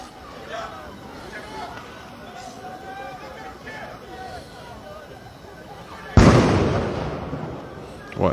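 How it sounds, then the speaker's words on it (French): Tear gas launchers firing during a night riot in a crowd. Background babble and commotion run throughout until one loud, close burst erupts and trails off, followed by another sharp hit at the end. "Donc il y a les tirs lacrymogènes qui continuent."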